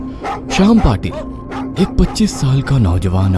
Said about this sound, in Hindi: सोसाइटी के गेट के बाहर कुत्ते भौंक